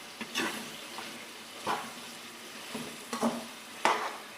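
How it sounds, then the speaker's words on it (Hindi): Tomatoes frying in a pan with a soft steady sizzle while a spoon stirs them, scraping the pan in several short strokes spread across the clip. "अब हम टमाटर के अंदर फ्राई करेंगे। टमाटर गलने तक हम पकाएंगे इसको।"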